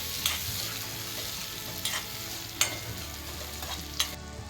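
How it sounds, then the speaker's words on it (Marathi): Pieces of brinjal are mixed into hot frying masala in a pan, with a soft constant sizzle broken by a few sharp scraping strokes of the spoon, heard up close with no voices. "त्यात आता मी वांगे टाकते आणि तेही पूर्ण छान मिक्स करून घेते."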